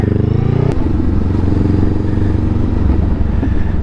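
A 2020 Honda Rebel 500 motorcycle rides through town, filtering through traffic. Its engine gives a close, steady, throbbing drone with a brief change in pitch early on.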